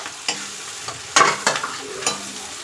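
Onion and capsicum fry in a pan for macaroni, giving a soft, steady sizzle broken by several sharp scraping stirs of a spatula, fairly close and moderately loud.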